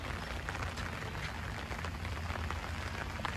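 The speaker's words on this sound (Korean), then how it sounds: "지금 들리시겠지만 지금 비가 많은 양의 비가 이제 쉬지 않고 내리다 보니까" Heavy rain pours down nonstop outdoors during a major flood in Australia, a dense, even roar of drops striking surfaces that stays steady and fairly close throughout, with no voices.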